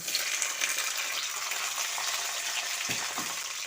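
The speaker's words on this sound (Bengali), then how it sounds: "সিমগুলোকে দিয়ে ভালোভাবে নেড়ে চেড়ে ভেজে নেব" Beans sizzle and crackle steadily as they are stir-fried in hot oil with black cumin, a dense close frying hiss with a couple of soft stirring knocks near the end and no talk.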